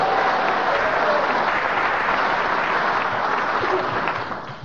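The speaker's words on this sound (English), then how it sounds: "a round of applause for Colin." Steady, dense applause from a studio audience for Colin Sell at the piano on a comedy panel show, sustained at full strength before tapering slightly at the end.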